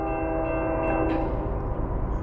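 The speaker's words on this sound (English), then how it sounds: "Give me a nice horn show." A freight train horn sounds a sustained chord at close range at a New Jersey grade crossing, steady and loud over the rumble of the locomotive.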